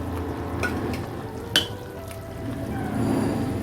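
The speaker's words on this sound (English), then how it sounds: "And now I'm adding some fried onions to it." Fried onions tipped into hot oil in a pan while making fish curry set off a steady close sizzle, with a few sharp spattering crackles rising out of the hiss and no talking.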